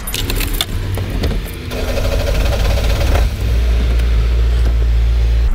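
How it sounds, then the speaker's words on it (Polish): A car engine cranks and catches, then settles into a steady low idle that runs close and loud for several seconds, a short whirring at the start before it fires, with no talk. "Odpalę silnik."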